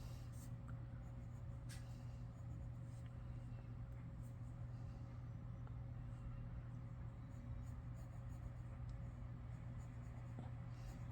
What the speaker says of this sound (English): Lightly just scribble the colored pencils.